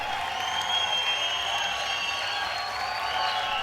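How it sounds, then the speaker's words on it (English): A crowd applauds and cheers steadily for a bodybuilder's entrance at the Tribeca Performing Arts Center, a soft, distant wash of clapping and shouts that holds at a constant level. "the crowd erupts with appreciation"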